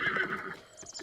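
A horse in The Legend of Zelda: Breath of the Wild whinnies loudly up close, its neigh rising and then trailing off, followed by a couple of soft hoof clops.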